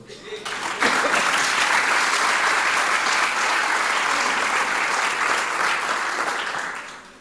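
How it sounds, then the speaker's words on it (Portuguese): A church congregation applauds loudly and steadily during a sermon, a dense wash of clapping that builds quickly and holds for several seconds before tapering off. "Diga amém, aplauda ao Senhor."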